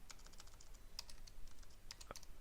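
Someone types on a computer keyboard, a quick series of faint, light key clicks with a few sharper taps, quiet and close with no speech.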